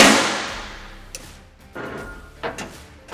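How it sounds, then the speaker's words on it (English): A metal door pin is tapped down into the knurling while installing a SuperATV aluminum door on a Polaris RZR Pro R 4: four sharp, close taps spaced evenly after a fading hiss. "We're just going to tap it down into the knurling."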